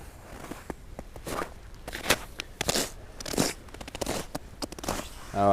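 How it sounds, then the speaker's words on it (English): Footsteps crunch through cold, dry snow on a sunny morning at about -26°C, a string of close, irregular crisp crunches with soft crackles between them and no talking. "the sound under the footsteps of the cold snow"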